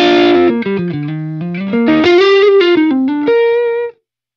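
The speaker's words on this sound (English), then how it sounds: "the amp by itself would sound like this." Distorted electric guitar through a Line 6 Helix amp model with no effects, a short melodic phrase of sustained overdriven notes, loud and close, ending abruptly.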